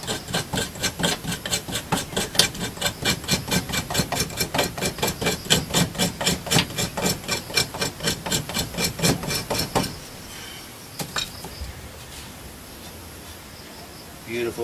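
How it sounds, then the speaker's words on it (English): A knife blade scrapes sticky Florida fatwood in a fast, rhythmic series of rasping strokes for about ten seconds, close and clear, then stops, leaving quiet rustling and a few light taps. "Use the blade to scrape a little bit."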